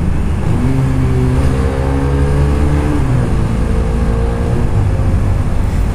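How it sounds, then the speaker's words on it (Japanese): A Honda Rebel 250 motorcycle engine accelerates hard, its loud steady drone climbing in pitch through gear changes, with constant road and wind noise and no talk. "試しにね、結構加速してみましたけどね、加速は十分ですね。"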